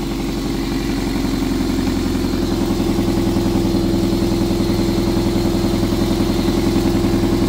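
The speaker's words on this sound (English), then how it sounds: "you can hear already just how throaty that is" A car engine idles loudly up close with a deep, throaty exhaust burble and a steady rhythmic pulse, no voices.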